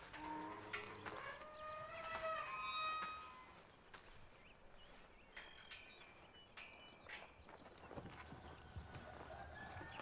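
Horse hooves clip-clopping outdoors, soft and fairly distant beneath birdsong and bright chirps, with a brief murmur of a voice near the end.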